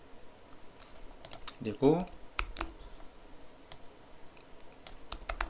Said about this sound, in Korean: 일일이 타이핑 치는 게 좀 너무 힘들어가지고